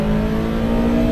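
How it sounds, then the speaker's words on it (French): The mid-mounted 3-litre V8 of a Ferrari 308 GTB with a Group 4-derived engine pulls hard in a brief, loud, steady burst heard from close by, with no talk. "avec derrière moi en position centrale arrière un V8 3 litres issu des 308 groupe 4"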